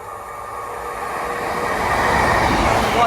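A Transport for Wales train, running diverted from Swansea to Manchester Piccadilly, rumbles through a station, its rolling rail noise building steadily louder and closer over a few seconds with no talk.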